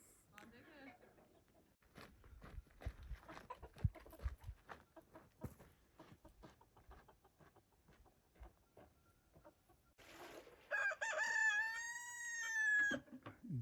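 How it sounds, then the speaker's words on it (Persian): A rooster in a village in the Iranian desert gives one drawn-out, wavering crow near the end, after a stretch of faint clucking, shuffling and scattered knocks. "این چی وقت خروس خوندنه؟"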